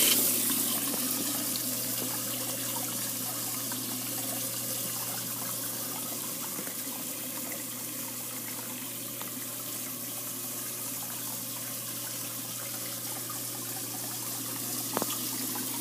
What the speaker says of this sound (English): That is an AquaRest Spa LED backlit waterfall.